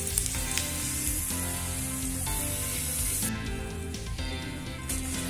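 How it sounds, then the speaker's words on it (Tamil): Raisins and cashews frying in ghee, a steady close sizzle with a bright crackle and no talking, shifting slightly in texture partway through. "இப்ப திராட்சை முந்திரி நெய்யில வறுத்து எடுத்து போட்டாச்சுங்க"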